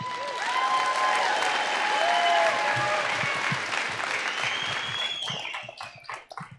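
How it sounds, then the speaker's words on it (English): A crowd at a high school graduation ceremony claps and cheers loudly and continuously, with a few shouts mixed in, before the applause thins into scattered claps at the end. "Give another round of applause for Samantha."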